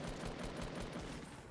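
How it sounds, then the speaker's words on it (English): Rapid automatic gunfire in the video game Fortnite, a steady rattling stream of shots heard fairly faint and distant throughout. "oh my god, I'm getting shot at again."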